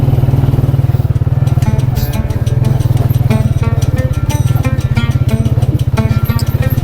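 A motorcycle rides along a mountain road toward Taki Top, its engine loud and close with a steady rapid throb and rattling clatter throughout.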